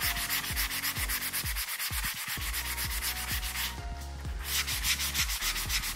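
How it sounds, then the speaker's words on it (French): An abrasive sponge scrubs over dried patina paint on a piece of furniture, a loud, close, rhythmic back-and-forth rasping in quick repeated strokes with a brief pause near the middle. "je vais utiliser l'éponge abrasive pour faire l'effet patiné tout simplement"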